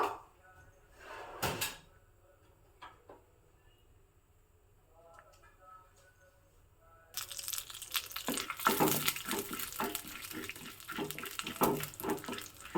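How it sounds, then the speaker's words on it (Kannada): Chana dal dropped into hot coconut oil for an Udupi-style rasam: after some quiet kitchen knocks and clatter, a loud, steady crackling sizzle suddenly starts and carries on close to the microphone. "ಕಡಲೆಬೇಳೆ ಹಾಕಿಬಿಟ್ಟು ಚೆನ್ನಾಗಿ ಹುರ್ಕೋಬೇಕು"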